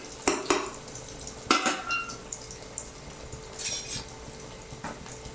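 Onions fry in a pan for South Indian sambar with a faint sizzle. Several sharp clanks of a spoon or ladle against the pan break through the sizzle at uneven intervals.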